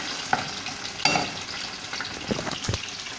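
Pieces of cod sautéing in a pan, cooked separately from the prawns for a chowder: a steady, fairly loud sizzle with scattered sharp crackles and pops, alone without voices.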